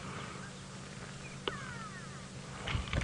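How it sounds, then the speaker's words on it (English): A grey go-away bird calls faintly at a distance in the early-morning African bush, a few short descending cries over a steady low hum of vehicle and ambient noise, no speech. "I hear a grey go-away bird calling."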